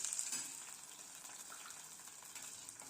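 Cumin seeds and curry leaves crackle in hot oil, with green chillies joining for an oats khichdi; a steady, fairly faint hiss continues throughout, with no voices.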